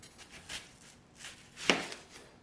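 A knife chops a yellow onion on a board, a few soft, irregular cuts followed by one sharper, louder chop near the end, quiet and close.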